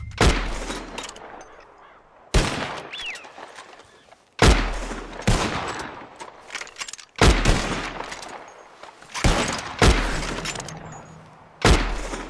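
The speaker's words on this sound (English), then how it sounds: "As soon as you see them, start shooting." Gunfire in a shooting contest in Red Dead Redemption 2: six loud, sharp shots spaced about two seconds apart, each followed by a decaying echo tail, with quiet gaps between them.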